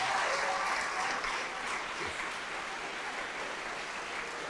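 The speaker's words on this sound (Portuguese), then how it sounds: "Vamos aplaudir ao Senhor Jesus por cada vida que está chegando." A church congregation applauds during a service, with continuous dense clapping throughout and faint voices mixed in.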